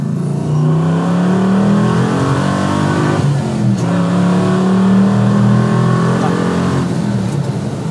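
A Dodge Dart with a 5.7 HEMI V8 swap revs hard toward its 6,800 rpm limiter, a loud close engine rising in pitch, dipping and climbing again with a rough cutting edge.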